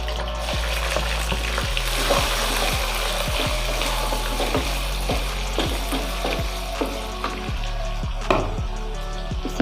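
Onion and capsicum fry in hot oil for chicken shashlik, a loud, steady close sizzle with regular rhythmic scraping and stirring strokes throughout, no talking.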